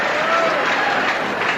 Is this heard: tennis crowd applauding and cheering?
yes